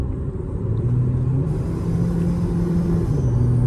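A Cummins diesel engine in an SUV revs up, its deep rumbling growl swelling and holding loud and close with no voices.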